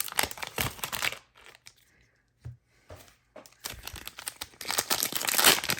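A 1990 Skybox basketball card pack crinkles and tears open up close in loud rustling bursts, with a quieter gap of scattered clicks in the middle before the crackling returns strongly.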